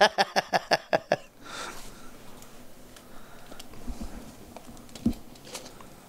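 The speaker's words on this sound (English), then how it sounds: "Oh, come on, Aric, with the shuffling." A deck of cards is riffled in a quick burst of about seven crisp, evenly spaced flutters during a Modern Magic: The Gathering match between two control decks, then quiet table noise with faint rustles.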